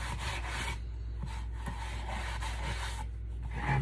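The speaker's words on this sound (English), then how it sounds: "I'm just gonna give it a really good wipe down. Get any of that sawdust that may be hanging on off." A cloth or pad wipes sawdust off a wooden kitchen riser with soft, steady rubbing strokes, close and fairly quiet.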